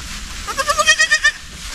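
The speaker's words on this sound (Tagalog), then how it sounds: "Tapos sumama si Sir Caro, yung kambing niya, yung maliit." A goat bleats once in a grassy pasture, a close, wavering call of several quick pulses lasting about a second over quiet outdoor background.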